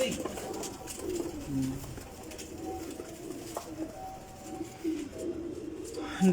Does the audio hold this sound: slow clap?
no